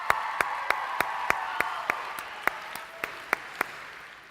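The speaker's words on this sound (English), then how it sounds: "Let's give her another round of applause." Applause after the national anthem at an Oregon FFA state convention session, sparse and thinning, with about a dozen loud distinct claps standing out over a soft fading patter of hands across the hall.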